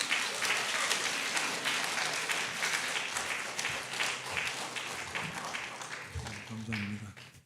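Congregation at a Sunday church service applauding steadily to welcome the pastor to the front, broad sustained clapping that fades slightly near the end as a voice begins.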